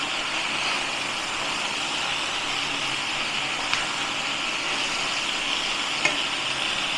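Vegetables with cumin sizzle steadily in a pan for a Bengali prawn curry, an even moderate frying hiss with a couple of faint spoon taps, no talking.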